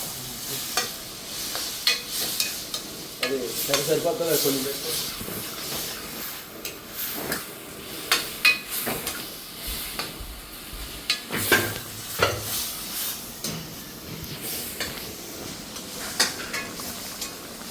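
Chicken fry and chicken curry cook in a pan while a spoon stirs it, giving a steady sizzle and hiss broken by scraping strokes and clinks. Everything sits close, and no one speaks.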